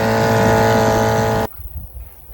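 Vintage outboard motor running just after a first-pull start, a loud buzzing drone with strong steady harmonics that cuts off abruptly at about a second and a half, leaving faint background.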